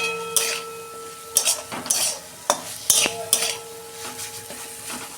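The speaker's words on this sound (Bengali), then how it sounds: "ভালো করে আর 2 মিনিট কষাবো।" A spoon stirs and scrapes a spice masala with turmeric, tomato and a little water in a pan, making sharp, irregular metal clinks and scrapes over a soft, steady sizzle of frying.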